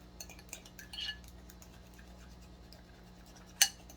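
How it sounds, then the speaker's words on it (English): A fork scraping and clinking against a bowl while mixing Repashy gel fish food powder, soft intermittent scratches capped by one sharp, close clink. "I always like to run the fork around the bottom, trying to get as much of that powder incorporated as possible"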